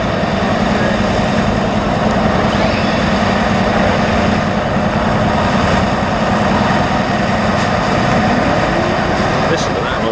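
Big heavy lorries at a Dorset steam fair roll past with a steady low engine rumble, loud and continuous throughout, with a faint voice now and then.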